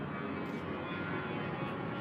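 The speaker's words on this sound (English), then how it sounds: "Another plane." A fixed-wing airplane passes overhead as a steady, distant, broadband engine roar that stays at an even level throughout.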